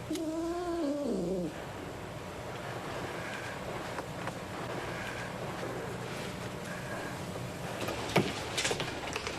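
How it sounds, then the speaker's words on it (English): A house cat gives a wavering meow near the start, then only faint background noise and distant sounds follow, with no talking. "This is Mrs. Dartmoor's cat."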